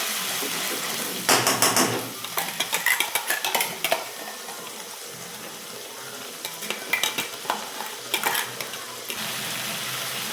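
A spoon stirs chopped onion and tomato with a bay leaf in a hot pan, giving bursts of scraping and clinking over a steady sizzle, with quieter frying between the stirs.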